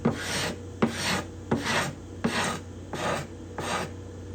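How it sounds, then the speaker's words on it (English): A hand scraper rasps along cedar binding and purfling on a guitar top, working with the grain in six steady, evenly spaced strokes, each a close, dry scrape, with no talk. "Trying to stay as straight as I can, scraping with the grain."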